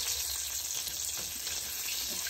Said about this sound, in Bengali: আমার বেগুন ভাজা হয়ে গিয়েছে